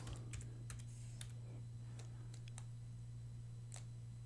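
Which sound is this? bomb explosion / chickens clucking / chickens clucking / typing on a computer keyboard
typing on a computer keyboard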